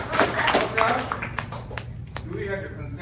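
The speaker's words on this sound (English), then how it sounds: "round of applause to Mark" Short burst of audience clapping at a talk on Kangen water, dense at first and then thinning into scattered claps, with people's voices mixed in.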